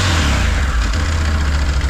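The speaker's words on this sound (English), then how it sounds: "Give it a little rev up there." A 2023 Can-Am Outlander X-MR ATV engine revs loud and close, a dense, steady mechanical roar with slight rises and dips in pitch over a couple of seconds.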